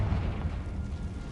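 A Confringo blast spell goes off in Hogwarts Legacy as a deep, rumbling explosive burst that stays loud and sustained through the short moment, with no talking over it.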